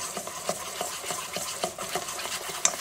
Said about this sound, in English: I'm going to give this to a whisk